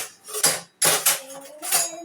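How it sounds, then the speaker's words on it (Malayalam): A metal spoon stirs lemon juice vigorously in a vessel, producing three loud bursts of clinking and scraping against the container, separated by brief pauses. "ഞാൻ ഈ സ്പൂൺ വെച്ചിട്ട് തന്നെ ഇളക്കാം"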